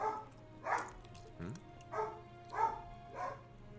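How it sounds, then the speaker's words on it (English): Dogs indoors at night bark faintly in the background, giving a string of soft, evenly spaced yips and barks over a steady low hum. "I do apologize if you hear my dog barking, or my dogs barking like that."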